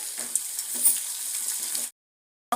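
Onions frying in a pan for village-style idli upma: steady, bright sizzle with soft stirring scrapes, close and moderately loud, stopping abruptly near the end.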